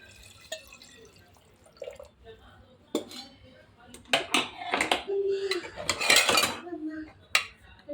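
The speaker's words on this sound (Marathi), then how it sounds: "चिकन चांगलं परतवून झालं की त्याच्यामध्ये पाणी घालून घ्यायचं." Metal pot and utensil clatter, then a burst of water pouring and splashing into a pot of browned chicken, with sporadic clinks and scraping around it.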